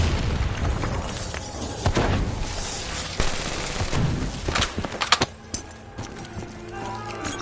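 Explosions and gunfire from a story-mode video game rumble over a dense backdrop of game noise, with scattered sharp booms and bursts, and voices speaking among them.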